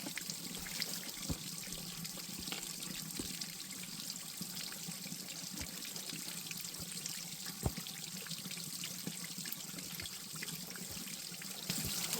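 Water flows and trickles steadily over a slippery spot in a valley, a faint, continuous babble with small splashes and no talking.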